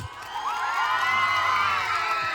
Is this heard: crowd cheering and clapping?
yes